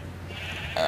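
A brief sheep bleat from the video game Minecraft, a short nasal cry arriving at the very end over a low steady hum, fairly faint.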